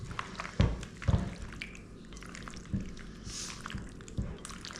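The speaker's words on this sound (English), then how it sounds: "we'll just go in with our pasta and green beans" Pasta and green beans go into a pesto sauce, giving a few soft wet plops and squishy thuds, then light stirring and dripping, close by in a quiet kitchen.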